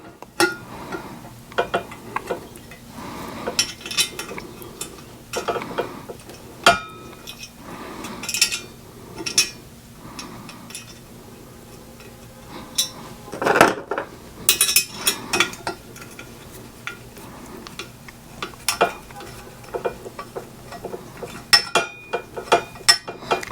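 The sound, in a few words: exhaust baffle being fitted into fishtail exhaust tip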